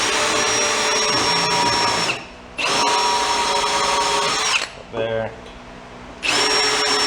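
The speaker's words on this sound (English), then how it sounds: "do that on the drill press" A drill press whines loudly while boring small starter holes into pallet wood, running in long steady bursts that stop, pause and restart, with a brief spoken word during one gap.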